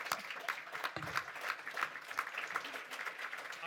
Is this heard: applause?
yes